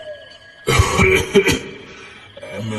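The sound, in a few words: deliberate cough in an audio story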